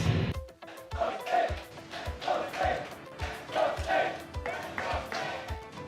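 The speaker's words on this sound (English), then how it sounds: "You can hear the Let's Go Slate sneaking into our mics." Esports arena crowd at a Mobile Legends MPL Singapore final chanting in a steady rhythmic pattern of repeated claps and shouted calls, heard from a distance behind nearby speech.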